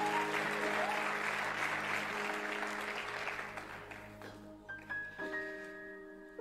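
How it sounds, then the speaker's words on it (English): Church audience clapping for the leadership team, a thick round of applause that thins out after a few seconds, leaving scattered claps over sustained music tones. "Can we give the whole leadership team here just a big round of applause?"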